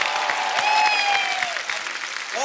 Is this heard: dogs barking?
no